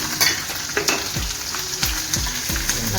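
Chilies go into hot oil with popped mustard seeds and cumin, a steady close sizzle with a few sharp crackles and spoon knocks spaced across the clip, no talk.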